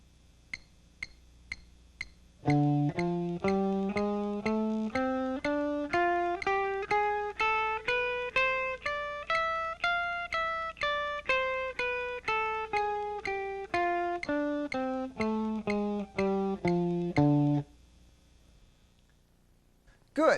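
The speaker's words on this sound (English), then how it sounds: "And with the metronome set at 120," A few soft metronome clicks lead into clean guitar notes played quickly and evenly at 120 beats per minute, climbing up a scale and descending again, close and clear with no voices.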